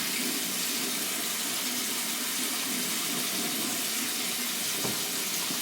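Tap water running steadily into a bathroom sink while hands are wet during a face wash, a continuous close hiss with no talking.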